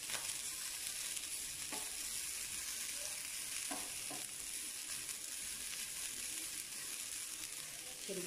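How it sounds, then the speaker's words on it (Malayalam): Grated coconut roasting in ghee in a pan for carrot coconut payasam, a steady even sizzle throughout with a few soft scraping stirs of a spoon. "കോക്കനട്ട് ഇതിലേക്ക് ഇട്ടിട്ട് നന്നായിട്ട് ഒന്ന് ഒരു ഗോൾഡൻ ബ്രൗൺ കളറായി വരുന്നവരെ റോസ്റ്റ് ചെയ്തെടുക്കാം"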